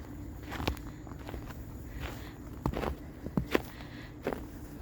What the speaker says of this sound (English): hear the snow crunch.